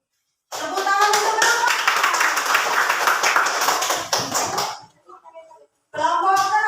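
Classroom of students claps enthusiastically for a student group, a dense burst of many hands lasting about four seconds that fades out, with children's voices heard briefly after.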